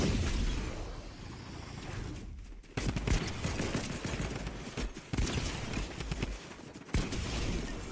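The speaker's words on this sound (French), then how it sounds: "Là-bas, ça tire encore." Video game gunfire crackles in dense, rapid bursts, like automatic weapons in a firefight. The volleys are loud and nearly continuous, broken by a few brief gaps and sharp single shots.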